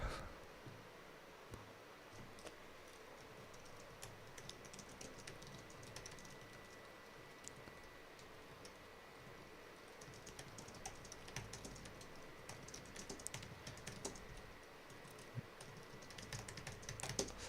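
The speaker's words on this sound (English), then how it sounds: "I'm gonna type everything you just said" Typing on a computer keyboard, quick irregular clicks and key taps close by, running steadily and alone without talk.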